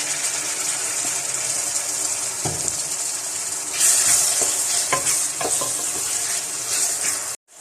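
Beef karahi fries in a pan with a loud, constant sizzle, broken by scraping stirs at irregular intervals, before the sound cuts off abruptly at the end.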